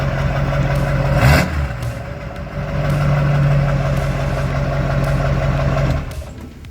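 A custom truck built with a Kenworth semi visor idles with a steady low rumble, blips its engine with a sharp rev near the start, then rises into a sustained higher rev before settling back to idle.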